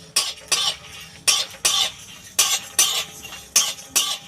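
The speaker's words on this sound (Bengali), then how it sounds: "1 চামচ ধনে, 1 চামচ জিরে, এইগুলো এবার আমি ভেজে নেব ভালো করে।" Coriander and cumin seeds are dry roasted in a pan and stirred in regular bursts, each stroke giving a sharp rattling scrape with brief quiet gaps between, close and fairly loud.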